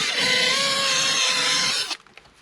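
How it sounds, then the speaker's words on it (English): A power drill bores a pocket hole through wood in a Kreg pocket-hole jig, a steady whining whir for about two seconds that cuts off abruptly, followed by faint clicks. "I should be able to drill the pocket hole"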